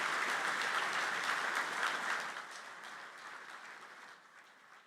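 Audience applause at an energy summit opening ceremony, a broad sustained wash of clapping that starts strong and fades gradually toward the end.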